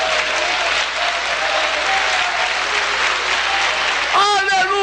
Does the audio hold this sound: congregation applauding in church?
yes